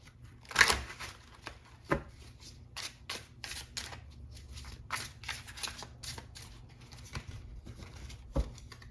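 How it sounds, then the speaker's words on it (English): Tarot cards being shuffled by hand close up, giving irregular soft riffles and taps of varying loudness, with a sharper snap near the start and another near the end, in a quiet room without talk. "You'll let me shuffle."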